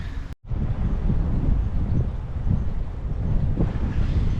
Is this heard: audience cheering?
no